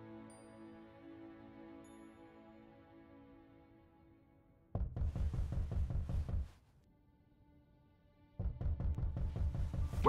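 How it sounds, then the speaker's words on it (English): Someone raps on a door in two bursts of rapid, hard knocks, loud and close, separated by a few seconds of quiet with a faint sustained tone under the opening. "Does anyone else think that sounded like someone knocking?"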